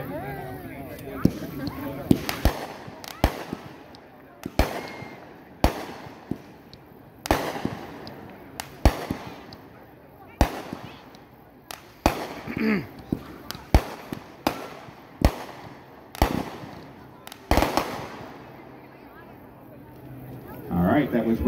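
Red, White, Bang fireworks from a consumer fireworks demo burst in a long irregular series of sharp bangs and pops, some close and loud, with voices talking faintly between the blasts.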